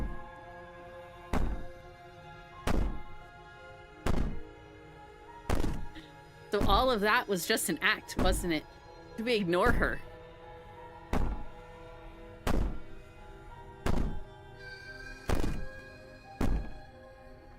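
Heavy banging in the video game Slay the Princess: loud, evenly spaced thuds about every second and a half, with people talking over them partway through.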